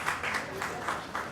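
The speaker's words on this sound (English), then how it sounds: "a round of applause for Folake Agunbiade" An audience at a customer experience management conference panel in Nigeria claps in a short, steady burst of applause, moderately loud and mid-distance, with no talk over it.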